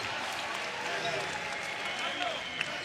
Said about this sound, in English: And you gotta love them. I mean, they just keep cheering.